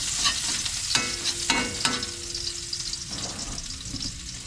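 Garlic sizzles and spits in hot oil in a pan for escabeche tilapia, with a few sharp stirring scrapes against the steady frying hiss, close and fairly loud.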